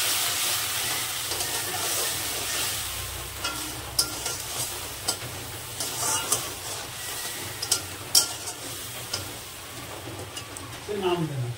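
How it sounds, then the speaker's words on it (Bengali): Onion with cumin powder, turmeric and a splash of water being stir-fried in a pan for a prawn cutlet masala: a steady soft sizzle under repeated scraping stir strokes, with a louder burst near the end. "মশলাকে ভালো করে কষে নেব।"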